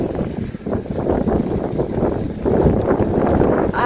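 Strong headwind buffets the microphone in rough, uneven gusts, loud and close, with a low rushing roar throughout.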